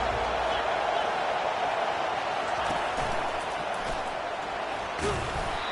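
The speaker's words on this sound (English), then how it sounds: "Listen to the crowd energy here in the early going." A home stadium crowd at a college football game in The Swamp against Texas roars as a steady, distant wash of noise, with a few faint thumps and shouts rising briefly out of the din.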